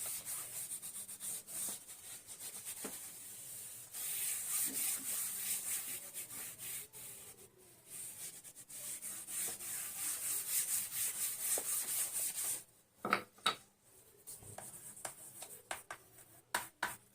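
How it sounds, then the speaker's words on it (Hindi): Someone rubs an eraser or cloth over a board during a maths lesson, giving long steady scrubbing passes for about twelve seconds, then a few short rubs and taps. "तो इसको रब करते हैं"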